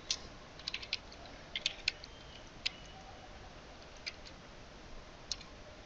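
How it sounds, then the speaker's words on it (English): Computer keyboard typing a command for an Nginx SSL setup on CentOS 6, with light, irregular key clicks in quick clusters, fairly close and quiet against a soft background hiss. "Now type this command and hit enter."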